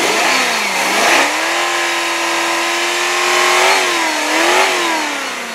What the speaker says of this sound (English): let's rev her up for you.